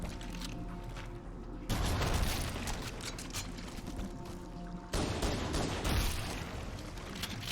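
Enemy gunfire rattles through the Library level of Halo on Legendary difficulty: rapid, dense bursts of shots in two sustained volleys separated by a short lull. The shooting is fairly quiet, steady and mechanical, with no talking.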